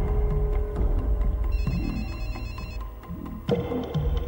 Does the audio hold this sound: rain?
no